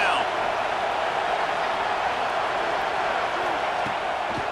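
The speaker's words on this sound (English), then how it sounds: "Decibels rising as the crowd gets behind this defense on third down." A dense, steady roar from a college football stadium crowd at a #10 Michigan State vs #6 Tennessee game as the defense faces third down, loud and unbroken throughout, with a commentator talking over it.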